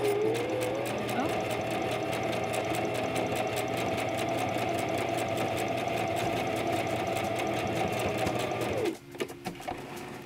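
A sewing machine stitching zigzag runs steadily with a rapid mechanical whir for several seconds, then stops, leaving a few faint clicks.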